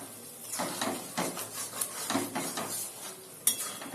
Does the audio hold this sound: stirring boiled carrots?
yes